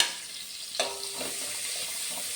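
Spring onion whites sizzling in a hot pan for chicken fried rice, a quiet continuous hiss after a soft clatter as they go in, with faint stirring.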